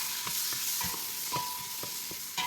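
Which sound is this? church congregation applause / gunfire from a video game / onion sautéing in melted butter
onion sautéing in melted butter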